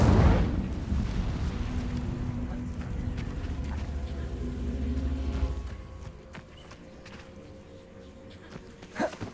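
Incendio fire spell cast in the game Hogwarts Legacy, a loud whooshing, rumbling burst of flame that swells at first and then fades into quieter crackling ambience.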